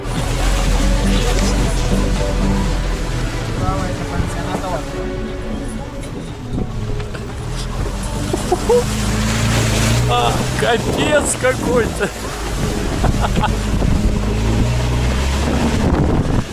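A convertible jeep's engine drones steadily while it bumps along rough off-road mountain track in Abkhazia, with heavy wind buffeting the microphone and a voice exclaiming briefly over the noise.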